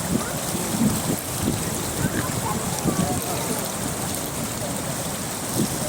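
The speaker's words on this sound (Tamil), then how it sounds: "ஸோ அதனால் இதுதான் தண்ணியோட ஃப்ளோ" Steady rushing water flows from the outlet of Chembarampakkam dam, a broad continuous roar with no pauses, loud and close throughout.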